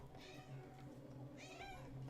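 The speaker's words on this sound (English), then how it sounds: "Needy cat." A cat meows twice over steady low room hum at a hobby workbench, the calls faint and a little distant with no talk.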